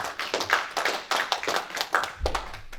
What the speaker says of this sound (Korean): 우리 큰 박수로 한번 맞아주시기 바랍니다.